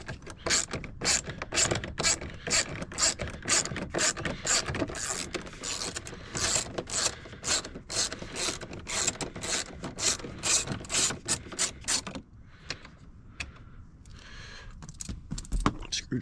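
A ratchet fitted with a 10 mm socket works a door bolt on a Jeep SRT, giving a fast, loud run of clicking pawl strokes close by, then a brief quieter pause before a few more clicks.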